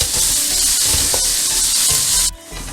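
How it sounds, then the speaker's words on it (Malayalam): Sliced onions sizzle steadily in hot oil as they are stirred toward golden brown for a mutton roast, a loud continuous frying hiss with faint scraping, briefly dropping near the end. "ഇനി സവാള ഒരു ഗോൾഡൻ ബ്രൗൺ ആകുന്നത് വരെ ഒന്ന് ഇളക്കി കൊടുക്കുക"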